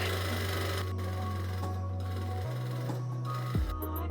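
A sewing machine runs a steady hum while stitching bias tape onto a corset, its motor tone stepping up in pitch partway through before stopping, with a few soft clicks near the end.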